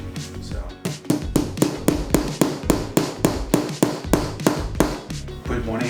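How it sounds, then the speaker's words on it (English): Nails being hammered into a wooden bird feeder: a steady run of about fifteen evenly spaced, sharp hammer blows, close and loud, with no talk over them. "You are going to gently hammer them in, okay?"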